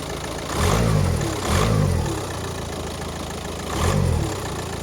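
A diesel engine in a Volkswagen Caddy 1.9 TDI idles with a steady rumble after an engine mount replacement, and its revs rise and fall in three brief swells.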